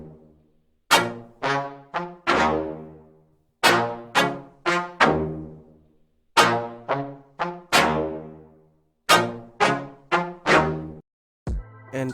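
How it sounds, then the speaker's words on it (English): Sampled trumpet melody from the Xenology library, bright brassy phrases in short repeated groups of punchy notes with gaps between, close and dry, alone without talk. "And I started with trumpets from Xenology"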